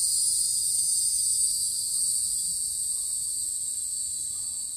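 A dense, unbroken chorus of cicadas buzzes steadily at high pitch, filling the night air with no other sounds.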